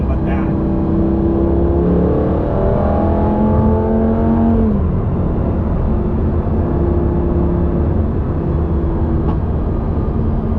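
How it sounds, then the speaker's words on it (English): High-RPM engine of a Lamborghini Gallardo revving while driving, a loud, steady roar that climbs in pitch and then settles, heard close from inside the car. "that rev of this high RPM motor"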